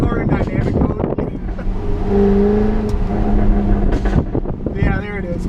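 A Jaguar F-Type R engine, set to dynamic mode, rises in a strong rev that holds a sustained tone through the middle, heard from inside the car under wind noise and bursts of talk at the start and end.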